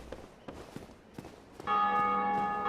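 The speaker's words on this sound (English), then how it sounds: "let's go ring our bell" A large bell in the video game Dark Souls Remastered rings out with one loud, sustained metallic strike that hangs and rings on, following a few soft footsteps and quiet ambience.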